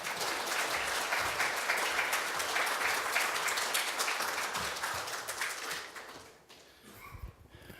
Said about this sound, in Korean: 박수로서 한번 여러분 맞으시겠습니다.